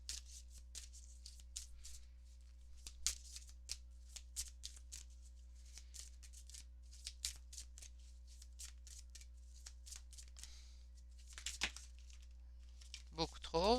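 Oracle cards shuffle for a reading in soft, quick riffling flicks repeated throughout, quiet and close, with faint rustling between bursts and a steady low hum underneath.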